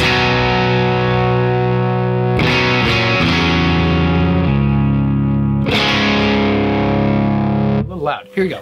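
Electric guitar through a Demeter TGP-3 tube preamp on a dirty, distorted channel, loud sustained chords rung out in two long strums, close.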